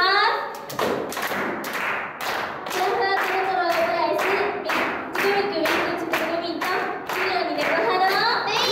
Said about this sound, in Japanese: 皆さん手拍子お願いします。